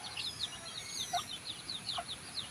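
Chicks peeping in a rapid, steady series of thin high chirps, with a couple of low hen clucks underneath, close by and alone.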